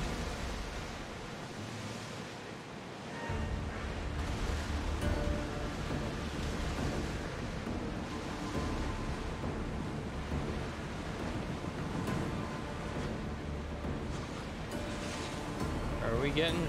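An ancient sailing ship in Assassin's Creed Odyssey cuts through open ocean, with a constant rushing wash of waves and wind that swells after the first few seconds. A voice talks over it at times.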